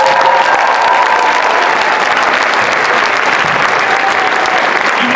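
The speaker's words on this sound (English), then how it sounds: "The first one is to solicit a round of applause for Travis Kerr." A school auditorium audience applauds at a high school Christmas concert, loud, dense clapping sustained steadily throughout with a faint murmur of the crowd underneath.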